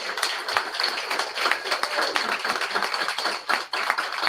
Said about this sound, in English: How about a really big round of applause for some great things?